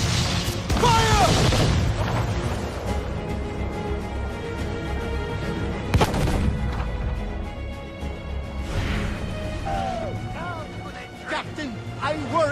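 Ship cannons booming in a naval battle in Assassin's Creed: Freedom Cry, several heavy blasts including a sharp one midway, amid loud battle noise, music and shouted voices.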